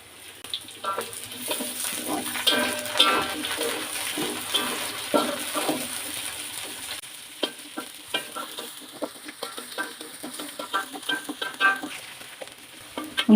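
Chopped onions sizzle in a pan of fried potatoes while a spatula stirs them, giving intermittent scraping clatter over a steady frying hiss, close and moderately loud, with no talking.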